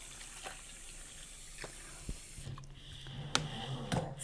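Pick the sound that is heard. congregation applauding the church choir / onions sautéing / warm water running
warm water running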